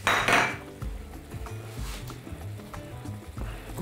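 Knife chopping tomatoes into diagonal pieces on a cutting board while making pork shawarma at home, a run of close, fairly quiet knocks and taps against the board.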